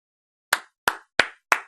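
A cue of applause rendered as four sharp, separate claps, evenly spaced and crisp, each decaying quickly into silence.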